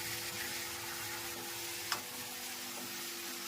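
Fenugreek greens sizzle steadily in a hot oil tempering with turmeric, chili powder and coriander-cumin spices, a continuous close frying hiss with one brief tap midway and no talking.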